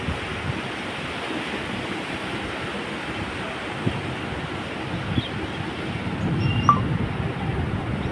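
Steady roar of sea waves on the Konkan coast with wind noise, continuous and fairly loud throughout, no voices.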